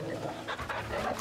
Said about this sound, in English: Where's my dog? Here you are, we gotta pet the dog.